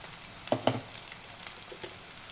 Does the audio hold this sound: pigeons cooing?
no